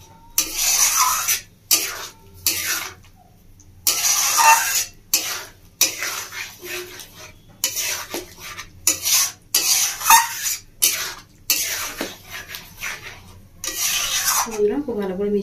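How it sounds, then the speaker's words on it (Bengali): Lentil batter mixed with spices is stirred in a pan over a low flame, making repeated rough scraping and rubbing strokes separated by short pauses, close and fairly loud. "লো ফ্লেমে দিয়ে ভালো করে মশলার সাথে মিশিয়ে নেব"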